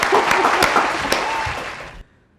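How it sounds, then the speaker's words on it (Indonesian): A crowd of thousands claps at a live talk show event, a dense, loud wash of applause that carries steadily and then cuts off abruptly near the end. "Boleh tepuk tangan dulu teman-teman yang di sini."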